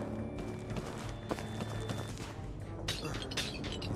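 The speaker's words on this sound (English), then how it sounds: "He's in his game room smashing shit." Things are being smashed in a game room, with irregular knocks, thuds and sharp crashes rattling through a cluttered space, fairly faint and unsteady, ending in a few brighter breaking hits.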